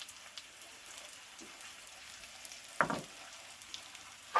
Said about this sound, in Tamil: நல்லா வதக்கி கொஞ்சம் மஞ்சள் பொடி, மிளகாய்த்தூள், மல்லி மசாலா.